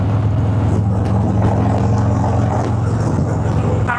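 A Harley-Davidson Fat Boy motorcycle being ridden, its engine a loud, steady low rumble with a constant drone and wind rush close to the microphone throughout.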